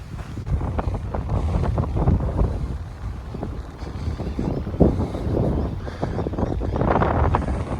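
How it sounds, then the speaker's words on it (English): Gusty wind buffets the microphone during a bike ride outdoors in Adelaide, a loud rumbling roar that surges and fades in uneven bursts, with no talking. "It's a windy one."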